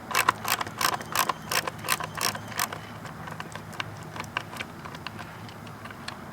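A hand ratchet loosens a screw on a Craftsman recoil starter, a close, loud burst of rapid clicking bursts that grows fainter and sparser as the screw backs out.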